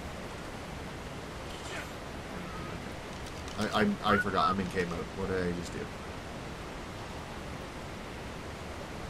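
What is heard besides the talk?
waterfall rushing in the video game Ark Survival Evolved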